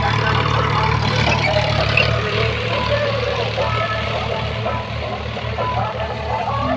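Tractor engine running at a wheat field during sowing, a steady low drone that sits under faint background voices throughout.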